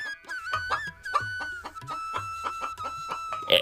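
Chickens in a cartoon cluck in a rapid, lively series of short rhythmic calls over a steady background tone, heard close and clear with no talking.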